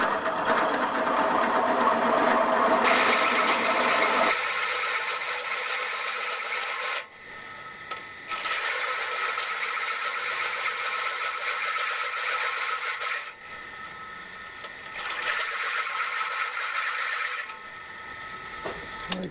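A small belt-driven machine motor in a home workshop runs with a steady mechanical whir in several loud stretches, with short drops and breaks between them, and no one talks.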